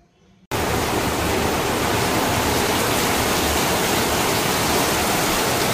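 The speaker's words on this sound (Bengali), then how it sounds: "কি পরিমাণ বৃষ্টি হইতেছে, নিজের চোখে না দেখলে বিশ্বাস করার মতো না।" After a brief quiet moment, heavy rain comes in suddenly as a loud, dense, unbroken roar of broadband noise that holds steady to the end.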